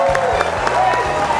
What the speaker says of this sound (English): Please give a round of applause for Luis Cox.